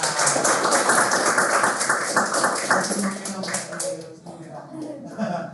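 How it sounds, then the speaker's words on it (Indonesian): A classroom of students claps together in a quick, dense burst for a few seconds, then the applause thins out as voices and talk take over. "Oke, tepuk tangan."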